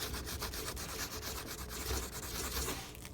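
Wood on a floating shelf being burnished, a steady dense rubbing and scraping that runs without pause at close range, moderately loud and alone.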